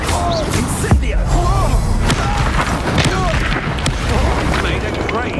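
Incendio fire spell cast in Hogwarts Legacy during a battle, booming whooshes and impacts amid a steady backdrop of combat effects, with a voice shouting over the action.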